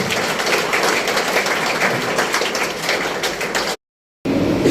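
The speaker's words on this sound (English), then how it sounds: "A round of applause for Dharmender." Loud, dense applause from a crowd at a college investiture ceremony in Chennai, continuous clapping that briefly cuts out near the end before resuming.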